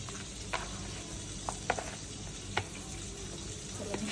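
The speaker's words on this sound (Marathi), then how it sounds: "आता हे मी मिक्स करून घेते" Masala, coriander powder, salt, turmeric and fresh coriander being mixed into fish by hand, soft scattered clicks and rubs over a low steady background hiss.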